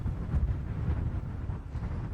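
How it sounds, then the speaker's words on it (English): Strong wind buffets the microphone outdoors at a helicopter crash site, a continuous low rumbling roar with uneven gusts and no voices. "it's awfully windy out here"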